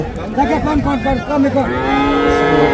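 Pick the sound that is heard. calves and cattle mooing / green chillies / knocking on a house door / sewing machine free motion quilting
calves and cattle mooing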